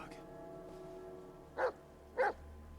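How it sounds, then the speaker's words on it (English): Dog in the Blair Witch video game giving two short, fairly loud barks spaced about half a second apart over a steady low game ambience. "now first thing we got to do is pet the dog"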